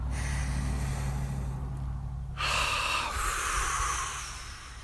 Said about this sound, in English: Let's take a deep breath in.